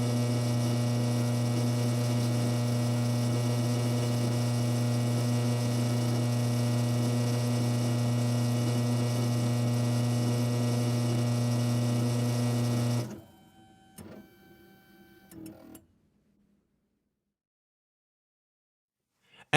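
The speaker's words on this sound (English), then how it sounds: "Now the machine will decode the cuts on the pattern key." Ilco EZ Code key machine decoding the cuts on a pattern key: a steady electric motor hum with a strong mains drone for about thirteen seconds, then short clicking mechanical movements before falling silent.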